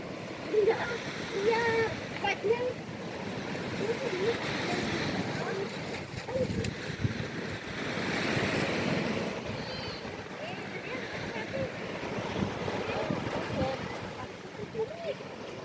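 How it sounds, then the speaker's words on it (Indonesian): Surf rolls steadily onto the shore at Puka Beach on Boracay Island, a continuous wash of waves mixed with wind buffeting the microphone and faint voices in the background. "Ini kita udah sampai di Puka Beach."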